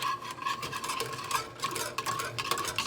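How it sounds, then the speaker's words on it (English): A whisk stirring cream soup mix in a pot on the stove over medium-low heat, a close, continuous rhythmic scraping and swishing of wire against metal. "We're just going to turn this on to a medium-low heat and give it a whisk"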